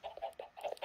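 A few quick clucks from a chicken in Minecraft, short repeated calls in a steady burst, close and moderately quiet.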